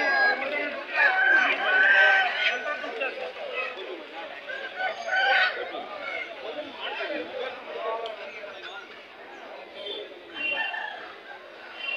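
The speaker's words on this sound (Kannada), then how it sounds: "ಹಾಂ, ಯಾಟೆ ಹುಂಜ." A rooster crows amid the bustle of a crowded hen market at Akkirampura, with many voices chattering and other fowl clucking nearby throughout.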